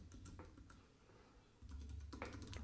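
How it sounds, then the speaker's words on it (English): Quiet, close clicks of someone typing text on a computer keyboard, in short irregular runs over low background hum. "So now I'm going to type in my text"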